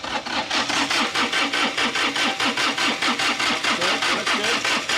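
A 3-cylinder Kubota diesel engine in a Jacobsen hydrostatic reel mower runs with a steady rapid chugging pulse, fairly close, each firing stroke clearly separated.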